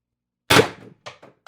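A Pistelle X-68 CO2 air pistol running on heated CO2 fires one sharp, close crack, followed by a few quick, fainter mechanical clicks.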